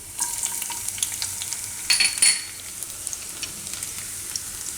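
Cumin seeds and garlic hit hot oil in a home kitchen pan, giving a steady bright sizzle with a couple of louder crackling bursts midway.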